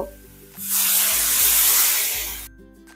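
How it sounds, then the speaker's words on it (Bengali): Water poured onto potatoes and okra frying on a high flame bursts into a loud hissing sizzle for about two seconds, then cuts off abruptly, with background music underneath. "হাই ফ্লেমে আলু আর ঢ্যাঁড়সটাকে 2 মিনিট ভেজে নিয়েছি। এবার জল দিয়ে দেব।"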